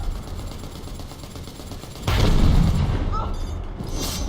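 A frag grenade bursts amid gunfire in the video game Predator: Hunting Grounds, a sudden loud blast partway through cutting over a steady background of rattling shots and game noise.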